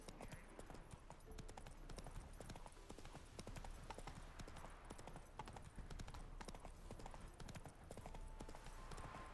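Roach, the horse in The Witcher 3: Wild Hunt, trotting along a road with a steady, continuous clip-clop of hooves, held quiet and even throughout.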